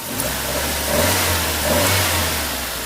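A Nissan Sentra GXE engine idles steadily with a low, continuous hum and faint periodic stumbles from a slight misfire, heard close and alone with no talking.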